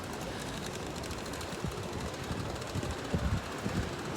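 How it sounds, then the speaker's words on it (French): Steady wind buffets the microphone outdoors in the seaside town of Hendaye near the ocean, a continuous broadband rush with occasional stronger low gusts and no talking. "là il y a quand même du vent, on sent que l'océan est pas loin"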